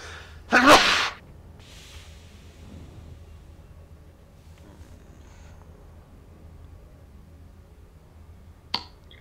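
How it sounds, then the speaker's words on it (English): A single sharp, loud sneeze from a person with allergies near the start, followed by quiet room noise and a faint click near the end. "I've been sneezing, blowing my nose in your ear"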